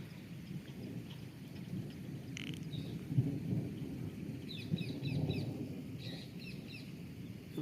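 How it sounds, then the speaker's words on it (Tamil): Distant thunder rumbles low and steady beneath a rainy outdoor scene, a faint rolling drone with soft rain and occasional chirping birds or fowl at a garden of jasmine plants. "இது பூரா டம்மு டம்முன்னு இடி இடிக்கிற சவுண்டு தான் கேட்குது."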